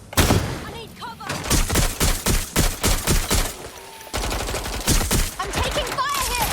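Rapid gunfire in Watch Dogs Legion, a run of loud, evenly spaced shots and bursts that pause briefly and then resume, ringing out close over a background of game noise.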